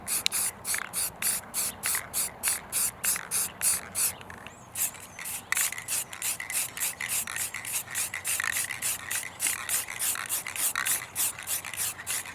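Rough, rhythmic rubbing strokes scuff a car's engine bay parts before spray painting, a fast steady back-and-forth rasp repeated dozens of times at close range, briefly pausing midway, with no voices.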